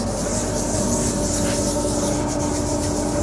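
An abrasive pad rubs steadily back and forth across the cast iron top of a workshop machine, a loud, continuous, close-up scouring hiss with no pauses or voices.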